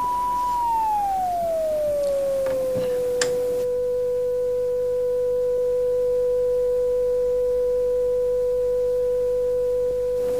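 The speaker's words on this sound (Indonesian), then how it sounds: "Dan Jilmi hidupkan yang kedua. Atur pada frekuensi yang sama." A signal generator, the second of two, set to the same frequency as the first, emits a pure electronic tone that glides briefly downward and then holds perfectly steady and loud, alone with no voices.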